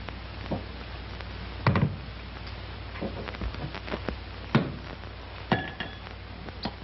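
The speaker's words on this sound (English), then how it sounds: "you take a glass up like this and you start pouring the whiskey" Whiskey poured from a full bottle into a tall glass holding a piece of ice, giving a few separate knocks and clinks of glass and ice at irregular moments over a soft background hiss, with no liquid trickle standing out.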